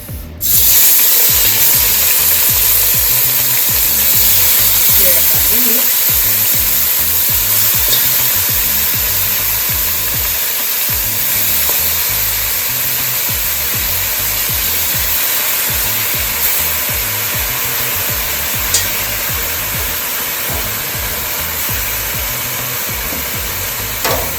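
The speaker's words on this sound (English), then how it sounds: "so I'm gonna start browning my beef" Beef browning in a pan for a home-cooked Sunday dinner: a loud, continuous sizzle and hiss holds steady for about twenty-four seconds with no talking.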